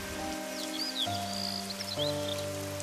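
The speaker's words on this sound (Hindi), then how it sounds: "तेज बारिश हो रही थी।" Rain falls in a steady, even hiss, with soft sustained musical tones and a few chirping sounds layered over it.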